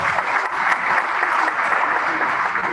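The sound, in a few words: applause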